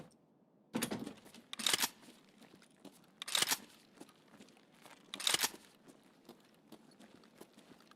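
Rounds are loaded into a magazine in Escape From Tarkov: four quiet, separate bursts of clicking and scraping, each a short metallic clack about a second apart, over a near-silent background.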